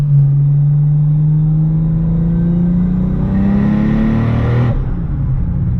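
A sports car engine pulls hard under acceleration, its close, loud tone climbing steadily before dropping sharply near the end, with no voices.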